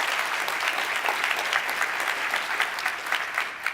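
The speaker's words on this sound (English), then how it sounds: "I'd like a round of applause for our platinum sponsors" Audience at a Code for America event claps for its platinum sponsors, a steady, dense round of applause from a large crowd indoors, sustained and even throughout.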